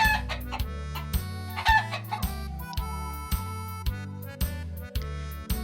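A hen clucks in a repeated, rhythmic series of short calls, close and clear, with a stylised farmyard feel and no talking over it.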